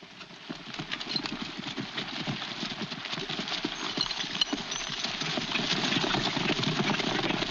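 Several horses clip-clop at a fast pace across a ridge in a 1940 Western, a dense, continuous patter of hooves that builds slightly louder toward the end, heard alone without talk.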